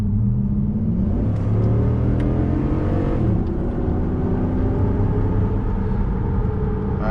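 A Ram truck's Hemi V8 accelerates hard from about 30 mph, a loud, close, continuous engine roar with rising and shifting pitch as it pulls through the gears.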